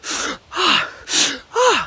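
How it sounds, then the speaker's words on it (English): A person gasps for air four times in quick succession, each sharp, loud intake of breath close up and separated by brief pauses, with no other sound. "let me see if I can gasp for air"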